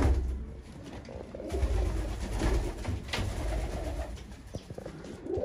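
Pigeons cooing inside a loft: low, soft repeated coos from several birds close by over steady room hiss, with occasional rustles and light shuffling.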